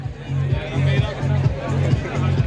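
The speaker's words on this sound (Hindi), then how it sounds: "गाइस देखो यार काफ़ी ज़्यादा भीड़ है" A dense crowd murmurs around a stall at a college fair, the babble steady and close, with a rhythmic low thumping beat pulsing underneath and a voice talking nearby.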